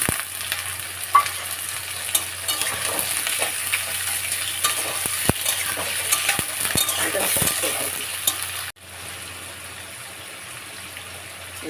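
Onion and shrimp sizzle steadily in a hot pan while being stirred, with scraping clicks over the hiss before the frying quiets down abruptly near the end.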